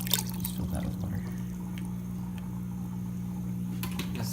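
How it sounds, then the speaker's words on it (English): Water pours steadily to refill an aquarium filter for a discus tank, a continuous close trickle and splash under a low steady hum, with no talking. "Just fill that with water."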